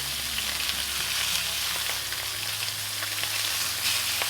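Pieces of beef tripe brown in hot oil in a pan, giving a steady, close, crackling sizzle with small pops scattered throughout and no voices.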